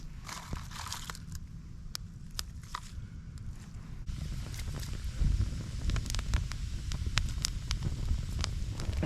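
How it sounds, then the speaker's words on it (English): Low, rumbling outdoor wind buffets the microphone throughout, with scattered crunching footsteps and small cracks over it near a campfire. "It's a little windy out."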